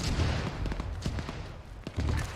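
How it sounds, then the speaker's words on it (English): Heavy artillery fire in the video game Arma: a dense, rumbling barrage of booms and cracks rolling continuously, loud and close, with no speech. "Hey, you under fire, heavy artillery."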